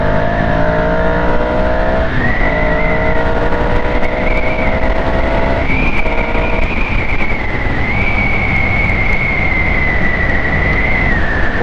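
A motorcycle engine accelerating hard in a steady, loud, rising whine that holds for several seconds with a slight dip midway, heard close from the rider's position over rushing wind.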